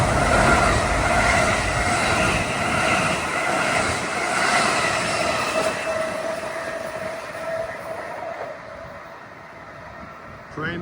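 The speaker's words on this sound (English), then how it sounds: "Train 1961 from Ronkonkoma to Penn Station with M9s at 413." An LIRR train of M9 cars runs from Ronkonkoma toward Penn Station near Nassau interlocking in Garden City, a steady loud rumble and rail roar that fades toward the end.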